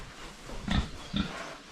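Sows, breeding pigs, in a pen give two short grunts about half a second apart at close range, with quiet background between them.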